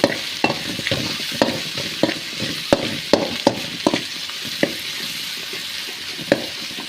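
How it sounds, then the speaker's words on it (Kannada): Tomatoes fry with salt in a pan, giving a steady close sizzle. Sharp, regular spatula knocks and scrapes against the pan run through it, and there is no talk. "ಒಂದು ಸ್ವಲ್ಪ ಸಾಲ್ಟನ್ನ ಹಾಕಿಬಿಟ್ಟು ಫ್ರೈ ಮಾಡಿಕೊಳ್ಳಿ"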